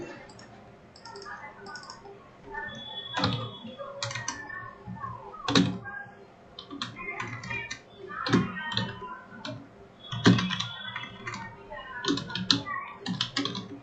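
Someone types on a computer keyboard in quick, uneven bursts of close clicking key taps, with short pauses between runs.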